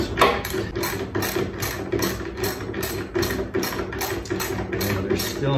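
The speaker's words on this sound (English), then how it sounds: "All right, we're gonna go ahead and remove" Screws come out of a rotted bunk board on a Tracker Pro 170 boat trailer, a tool clicking in a fast, steady ratcheting rhythm of repeated mechanical pulses throughout.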